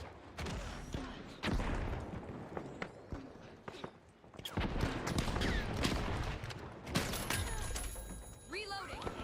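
Turret gunfire in a multiplayer shooter video game, dense rapid bursts and crackling shots over busy battle noise, loud and continuous with a voice talking over it.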